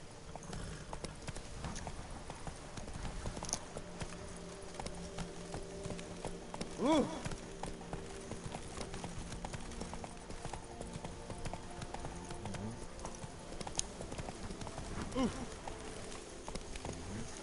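Roach the horse gallops in The Witcher 3: Blood and Wine, a steady rhythmic clip-clop of hooves running on and on, fairly faint beneath a constant background bed, with a voice briefly heard.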